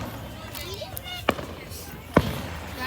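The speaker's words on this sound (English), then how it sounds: "Guys, look at the fireworks" Fourth of July fireworks going off outdoors, two sharp booming pops about a second apart over a steady murmur of people talking nearby.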